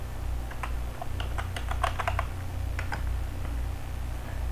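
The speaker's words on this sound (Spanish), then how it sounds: "Bien, escribimos el nombre de usuario." Someone types a username on a computer keyboard, a quick run of light clicking keystrokes at close range over a low steady hum.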